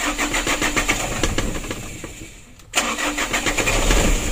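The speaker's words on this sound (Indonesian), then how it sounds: "starternya agak panjang baru hidup" An engine with jelly-like oil sludge cranks for a long stretch with a rapid, rough starter rhythm, pauses briefly, then catches and runs steadily, recorded close up.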